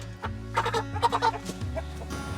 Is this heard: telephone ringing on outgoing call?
no